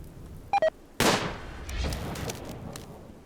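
A mortar fires in RimWorld, a colony-building video game: two short electronic beeps, then one sharp, loud boom that trails off into a low rumbling decay.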